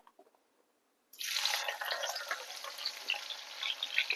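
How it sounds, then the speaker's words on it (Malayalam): Onions dropped into hot sunflower oil and ghee for Kerala biryani, a sudden onset of loud, dense sizzling and crackling frying that continues steadily after a brief quiet moment. "ബിരിയാണിയില്ലേ ദമ്മ് ചെയ്യാൻ വേണ്ടിട്ടാണ് ഈ ഓനിയൻ ഇങ്ങനെ പൊരിച്ചെടുക്കുന്നത്."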